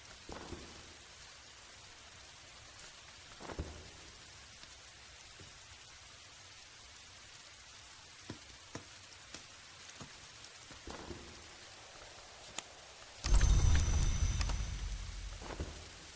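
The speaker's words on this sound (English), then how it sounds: "you get to hear the sound of the rain against the windows" Steady soft rain patters against windows in the game Book of Hours, a quiet continuous hiss with scattered drop taps, swelling into a louder, heavier burst near the end.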